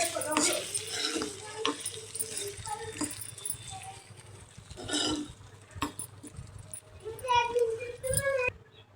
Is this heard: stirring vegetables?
yes